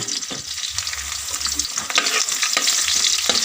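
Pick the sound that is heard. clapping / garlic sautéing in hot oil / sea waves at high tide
garlic sautéing in hot oil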